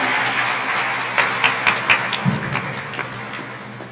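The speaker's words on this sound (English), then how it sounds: "can we have a big round of applause for our Honorable Vice Chancellor?" An audience at a national literature seminar applauds the Honorable Vice Chancellor. The claps are moderately loud and scattered, with a handful of distinct sharp hits in the middle before the sound tapers off.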